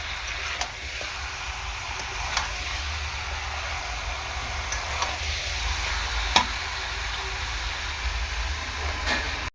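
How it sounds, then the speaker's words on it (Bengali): Chicken being sautéed with potatoes and chicken masala in a pan, a steady low sizzle and scraping stir running throughout with a few sharp utensil clinks. "তো চিকেনের মধ্যে আলুগুলোও দিয়ে দিয়েছি ভালো করে কষাবো চিকেনটাকে দেখো"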